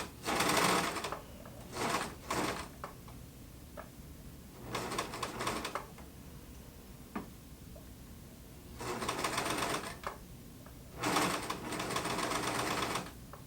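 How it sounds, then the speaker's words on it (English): A serger overlocks a fabric seam on a homemade running shirt, trimming the seam allowance as it stitches, running in several short whirring bursts separated by pauses, fairly close and alone. "now I can join this on my serger"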